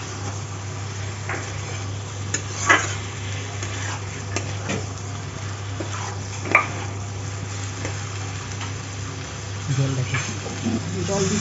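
Paneer added to masala in a pan, with a low steady hum under soft sizzling, scattered scrapes and clinks of a spoon stirring against metal, and a voice talking over it.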